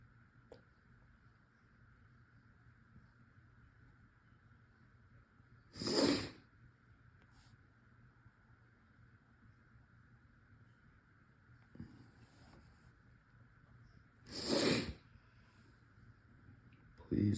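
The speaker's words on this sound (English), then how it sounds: "forgive me for all the sniffling and whatnot today" A person sniffles twice, several seconds apart, each a short breathy nasal inhale standing out clearly over a faint steady background hum, with a softer sniff in between.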